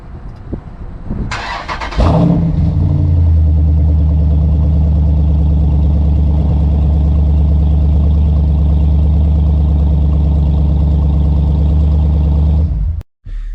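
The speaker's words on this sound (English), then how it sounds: "You'll hear the exhaust growl and start up right away." A Jeep SRT with a solo exhaust fires up on remote start with a brief crank and sharp roar, then settles into a loud, steady, deep idle rumble that runs close and unbroken until it suddenly cuts off at the end.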